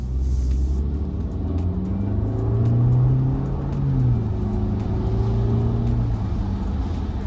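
A BMW F32 420i engine rumbles and revs up smoothly in Eco Pro mode with a rising, moderate drone, heard from inside the car, no talking.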